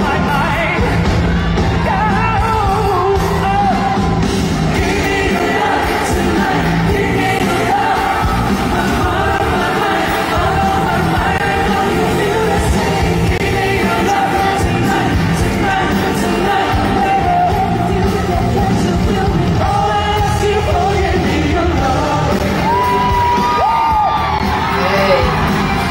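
A concert crowd in Hong Kong screams and cheers loudly and continuously, a dense wall of shrill yells and whoops, with music faintly underneath and no clear talking.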